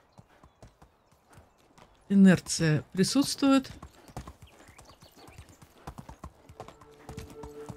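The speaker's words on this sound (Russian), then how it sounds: "Лошадина скачет очень быстро." Horse hooves clip-clop at a gallop in the medieval life-sim game Medieval Dynasty, a quick drumming rhythm running under a man's loud speech and continuing alone afterward.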